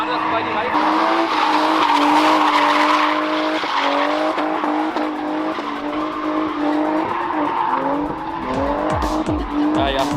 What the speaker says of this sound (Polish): Idziemy pokazać drifty.